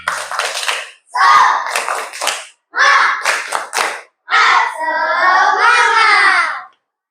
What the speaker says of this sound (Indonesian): Ayo tepuk semangat dulu. Tepuk semangat.